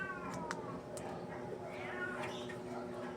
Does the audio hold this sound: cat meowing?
yes